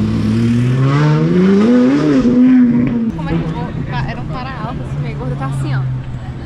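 A red Ferrari 458 on a city street, its engine rising in pitch as it accelerates, then settling to a lower drone as it moves off, with people talking nearby over it.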